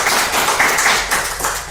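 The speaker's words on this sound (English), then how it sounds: "can we please give a round of applause to Savita Awasthy?" Audience applause for a guest named Savita Awasthy, a steady broadband patter of many hands clapping at close range for the whole short stretch, with no talking over it.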